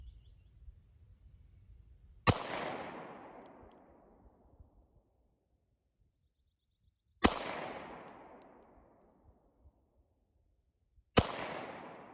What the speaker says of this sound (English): So true first shots for the day.